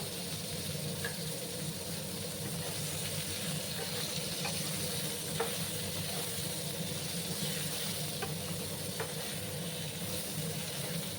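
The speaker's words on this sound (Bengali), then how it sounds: "এবার আমি পটলগুলো দিয়ে দেবো।" Pointed gourds (potol) go into a rui fish curry with potatoes, cooking over a low gas flame, giving a steady, quiet sizzling hiss with a few faint ticks and no voices.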